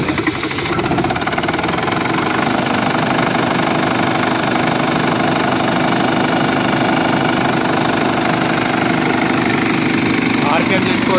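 Steady close-up running of a 15 kVA diesel generator engine, a loud, even, knocking diesel idle that continues without a break, with someone speaking over it.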